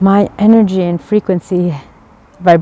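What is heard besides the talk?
No everyday noises stand out.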